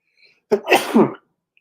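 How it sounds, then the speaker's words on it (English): A single loud, close sneeze, a sharp intake then an explosive burst, in otherwise near silence. "I have to sneeze."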